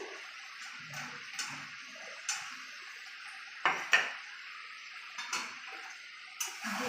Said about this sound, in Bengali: এবার এই কাটা আলুটি আমি দিয়ে দিচ্ছি।